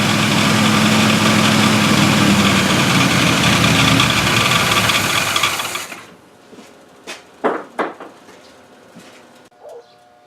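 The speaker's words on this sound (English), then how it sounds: "We're going to let it run for a few minutes on fast idle" A car engine running on fast idle while warming up, a loud steady roar that drops away abruptly after about six seconds, followed by quiet with a few short bird calls and light knocks.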